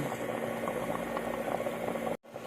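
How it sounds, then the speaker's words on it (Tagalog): Paksiw na bangus, milkfish stewed in vinegar, bubbles at a rolling boil in a pot with a continuous close gurgle and hiss, cut briefly by a short silent gap near the end. "Pakuluan lang natin ng pakuluan."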